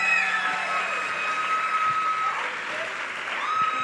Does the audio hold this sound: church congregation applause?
yes